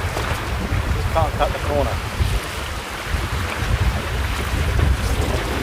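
A small trailer sailer sailboat running downwind along a reef-fringed island coast, with steady wind buffeting the microphone over water rushing past the hull; someone speaks briefly partway through.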